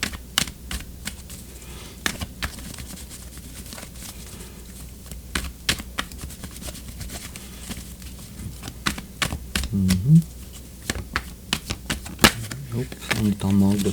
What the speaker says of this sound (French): Je continue de brasser les cartes encore un petit peu.